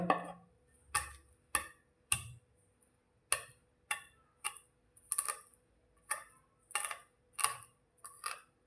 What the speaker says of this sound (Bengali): এই যে রসুনগুলো আছে, এরকম বড় পাথর নিয়ে থেঁতলে নেবে হালকা হালকা